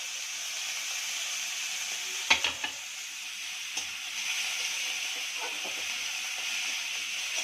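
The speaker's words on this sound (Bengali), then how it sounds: "পেঁয়াজটা লাল লাল করে ভাজা হয়ে গেছে" Onions fry in hot oil with a steady, bright sizzle, broken by a few sharp scrapes and knocks of a spoon against the pan as they are stirred.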